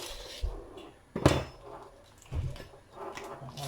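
A knife chops onion on a cutting board while seasoning is prepared for mackerel run down: a few sparse, irregular thuds and knocks, fairly close, with quiet gaps between.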